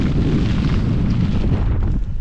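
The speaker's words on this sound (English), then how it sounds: "The rain's really hard. It's like little pebbles." Heavy rain drums hard and steadily on a tarp nearby, a dense, continuous pattering roar.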